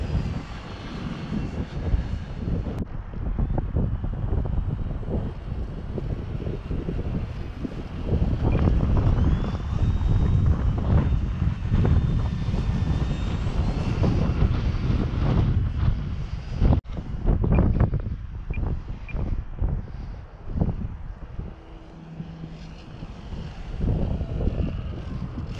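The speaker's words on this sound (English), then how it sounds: "this Turbo Timber, one of my favorite planes." A Turbo Timber model airplane drones overhead with a steady engine whine that rises and fades as it passes, accompanied by gusty wind buffeting the microphone throughout.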